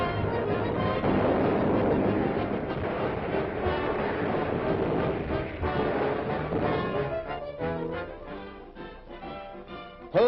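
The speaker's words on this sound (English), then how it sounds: "radio towers blasted, and shore facilities leveled to the ground. Oil tanks explode." US Navy bombardment of the Marshall Islands in a 1941 newsreel, with shore facilities and oil tanks exploding: a loud, continuous rumbling roar of blasts and fire filling the whole stretch, easing slightly toward the end.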